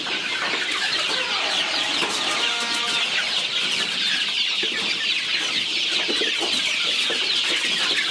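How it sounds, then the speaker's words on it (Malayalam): Country chicken chicks on a poultry farm cheep and cluck continuously in a dense, overlapping chorus, steady and fairly loud throughout with no talking. "ഇതാണ് നമ്മളെ കോഴിക്കുഞ്ഞുങ്ങൾ അല്ലേ?"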